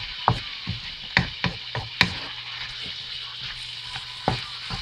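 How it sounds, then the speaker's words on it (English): Sauteed vegetables for Ghanaian chicken fried rice stir frying in a pan, a steady loud sizzle with occasional sharp clacks of a utensil against the pan, no voices. "Let's have it stir fry for about 2 minutes"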